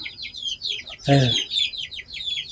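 Small chickens in a small country-style coop cluck and chirp continuously at close range, with a brief louder squawk partway through.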